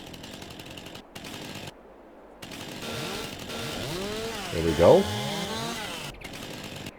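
A chainsaw in Farming Simulator 22 cuts through a tree, its engine droning and rising in pitch as it bites into the wood, close and steady, while someone talks briefly over it.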